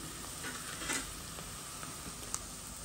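Saffron being stirred into onions, chili and ginger in a cooking pot, a steady soft sizzle with faint scraping and a few small clicks from the spoon, close and continuous, no talking.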